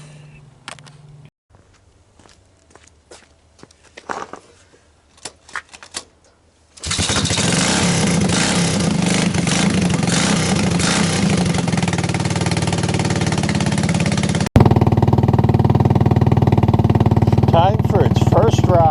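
A modified ATC 185 three-wheeler runs with the choke on. Scattered clicks and handling noises lead into a loud, steady engine drone, which jumps louder and harsher near the end under occasional talk.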